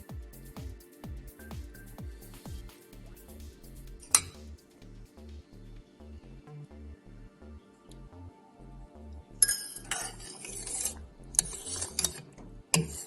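Spoon stirring thick sambhar with clarified butter in a pan, a steady soft rhythmic scraping and thudding with occasional metallic clinks and bright scrapes against the pan, close but fairly quiet.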